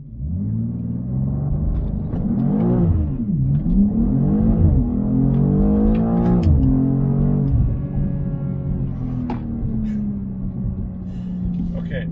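A lighter automatic 2023 BMW M2 launches hard from a stop toward 60 mph, engine rumbling and revving loud and close as its tires spin, the pitch climbing and dropping through quick shifts before settling into a steady drone.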